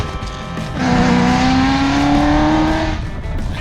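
A Shelby GT race car with a new exhaust on a shakedown day near the Targa Tasmania rally, its engine rising into a loud, sustained, droning rev close by before easing off.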